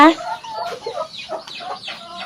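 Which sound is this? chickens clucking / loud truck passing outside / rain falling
chickens clucking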